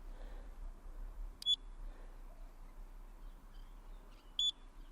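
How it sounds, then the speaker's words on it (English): Two short high electronic beeps from a carp fishing bite alarm, about three seconds apart, ring out over a quiet outdoor background with a low rumble. "Just turn the alarm on."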